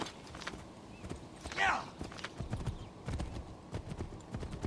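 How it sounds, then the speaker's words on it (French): Horse hooves clip-clop at a steady walking pace in Assassin's Creed 3, close and moderately loud, with a brief whinny or harness jingle partway through and faint game ambience underneath. "Donc, petit tour à cheval."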